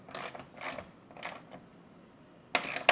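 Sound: tightening down a storage rack mount with a ratchet

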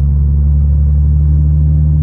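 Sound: raspy exhaust of Infiniti G37 with new Y pipe

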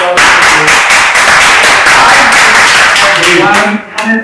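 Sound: audience applause at webinar

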